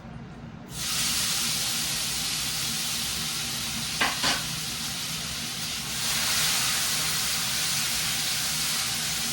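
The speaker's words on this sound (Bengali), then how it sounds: "তো চলো ড্রাই ফ্রুটস দিয়ে ড্রাই ফ্রুটস গুলো ভালো করে ভেজে নিয়ে যাই" Dry fruits fry in a pan with bay leaves and whole garam masala, a sudden loud, steady hiss of oil that lasts throughout, with a brief clink of a utensil partway and a slight swell near the end.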